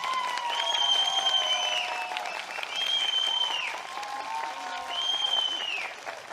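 Sustained crowd applause fills a party rally hall, steady and loud from start to finish, with piercing whistles rising repeatedly above the clapping.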